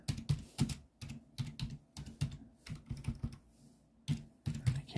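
Rapid bursts of typing on a computer keyboard, close and clear, with irregular clusters of key clicks separated by brief pauses.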